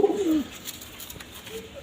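A pigeon coos once, briefly and close, in a Howrah pigeon loft, then quieter background hum with a faint second coo near the end.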